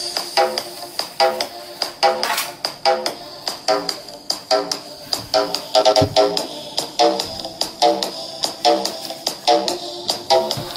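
Test music played through a small 8 ohm 2W rectangular laptop speaker, rhythmic pulsing beats with bright, thin tone repeating steadily, fairly loud, no talking.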